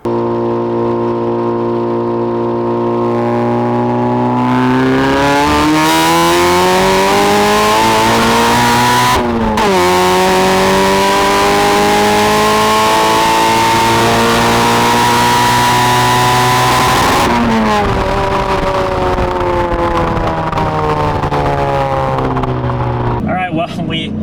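A 400-horsepower Mazda Miata accelerates hard through a quarter-mile drag pull, its loud engine note climbing steadily through several gear changes with brief dips between shifts, close and sustained for the full run.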